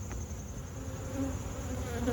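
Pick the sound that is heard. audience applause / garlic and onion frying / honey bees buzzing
honey bees buzzing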